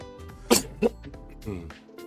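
A person coughs twice in quick succession, close to the mic, followed by a softer throat-clearing rasp.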